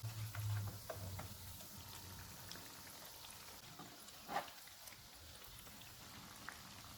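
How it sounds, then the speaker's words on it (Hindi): Leftover boiled rice cutlets frying in hot oil over a medium-low flame, a steady close crackling sizzle with a brief louder spatter partway through. "कटलस फ्राई हो गया, इनको निकाल लेते हैं"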